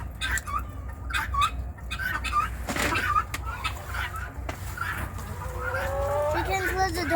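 Chickens cluck in short, scattered calls over a low background rumble, some clucks close and clear, others fainter, with no steady rhythm.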